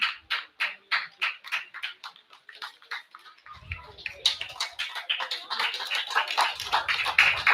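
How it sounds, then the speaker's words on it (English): Sparse, distinct claps from baseball fans at McDonough Park during a minor-league doubleheader game, marking a pitching change; individual hand claps in a steady rhythm, then a fuller round of clapping with crowd noise underneath. "Getting applause from the fans here at McDonough Park"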